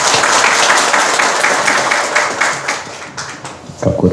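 An audience at a book fair mini talk show applauds to welcome a speaker: a loud, full burst of many hands that holds for about three seconds, then thins out and trails off.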